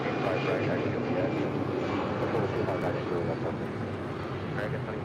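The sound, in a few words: airliner taking off at LAX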